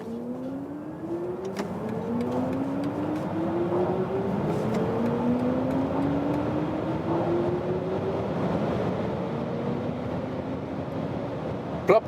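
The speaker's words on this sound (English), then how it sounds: "now to the BMW iX Sport mode, and I also go from 40 kilometers an hour to the German Autobahn." A BMW iX electric car accelerating hard in Sport mode from about 40 km/h onto the German Autobahn, its rising electric motor whine climbing steadily in pitch over sustained road and wind roar, with no talking.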